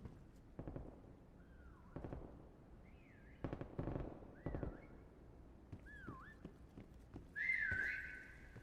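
Rising and falling whistle calls sound in a video game chase on a huge map. They come several times, with sharp percussive thuds and clatter between them and a longer, brighter whistle near the end.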